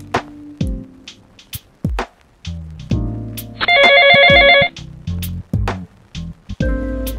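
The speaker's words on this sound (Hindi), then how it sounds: "अरे वो तेरी मैडम है ना, लक्ष्मी मैम, उनको फोन लगा, मैं बात करती हूँ।" A telephone rings once, an electronic trilling tone about a second long, surrounded by short clatters and household noises.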